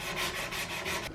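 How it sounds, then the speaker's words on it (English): Close, steady back-and-forth strokes of sandpaper rub over body filler on a Toyota Celica panel, about four rhythmic passes in quick succession with no talking. "hopefully when I start sanding it off, it doesn't like chip off and it actually still sticks on there. But yeah, let's get sanding."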